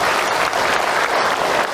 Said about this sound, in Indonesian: Tepuk tangan buat bunda yang berkah.